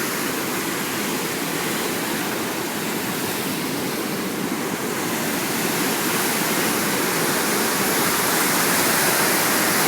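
Floodwaters of the Lester River in Duluth during the June 2012 flood roar over rocks and a submerged bridge, a loud, steady, unbroken rush of water close by that builds slightly toward the end.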